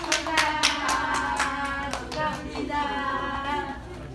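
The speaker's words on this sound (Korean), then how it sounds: "자, 서로 일어나서 서로 쳐다보면서 축하합니다 하고 박수 쳐주세요." A small group in a Korean network marketing class claps for one another at their final session, with close, uneven hand claps and a few brief voices mixed in.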